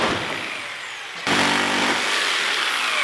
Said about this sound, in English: Now I just need to cut this really long bottom section off.